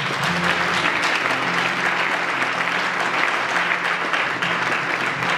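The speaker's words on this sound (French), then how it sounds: "Est-ce qu'on peut acclamer pour mon Père?" A church congregation claps and cheers steadily throughout, dense sustained applause filling a worship hall, loud and continuous with no single voice standing out.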